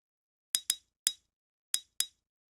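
Ice-crack sample triggered five times in a quick uneven pattern, each hit a sharp, bright crackling snap that fades fast, panned from side to side, with silence in between.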